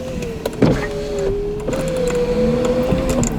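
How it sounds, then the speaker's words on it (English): An electric car window motor whirs steadily for a few seconds, its hum shifting slightly in pitch as the glass moves. "I might undo the window a little bit."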